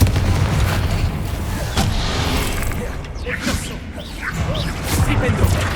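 Magical spell blasts in the Hogwarts Legacy video game: bursts, booms and whooshes in irregular succession over a dense background din, with a voice speaking between the impacts.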